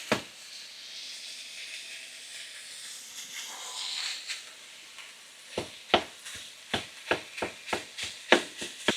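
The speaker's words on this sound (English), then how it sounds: "we can already just put in our minced meat" Minced beef frying in a pan with a steady hiss of sizzling, followed by a series of sharp, regular taps of a utensil against the pan in the last few seconds.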